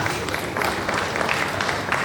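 An audience at the investiture of a chairman of a Lagos planning institute applauds the outgoing chairman, a steady, dense wash of many hands clapping without a break.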